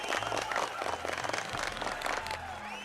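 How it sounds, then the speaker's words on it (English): Steady applause and clapping from a crowd at a live streamed show rolls on throughout, with a voice talking over it. "Oh, do we have to go through the applause again? Apparently we do."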